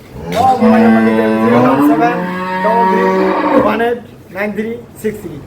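A loud, drawn-out dairy cow moo close by on a farm, followed by shorter lowing calls.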